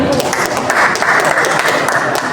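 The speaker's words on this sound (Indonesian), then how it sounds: "Tepuk tangan." Applause from an audience at an Indonesian one-year anniversary gathering for a media outlet, a short burst of dense, moderately loud clapping with some voices mixed in.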